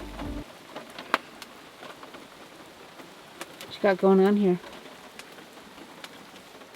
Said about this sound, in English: Rain, hail.